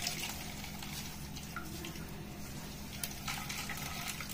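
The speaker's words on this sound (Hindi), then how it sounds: "तो ये देखिए कितना सारा पानी निकल रहा है" Water pressed out of momo filling by hand runs and trickles steadily, faint and close, with a soft continuous gushing and a few small splashes.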